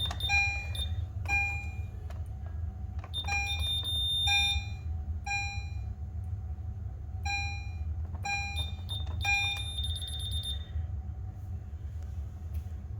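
A DSC PC5020 security alarm system sounds repeated electronic alarm beeps in bursts with short gaps, ringing over a steady low background hum.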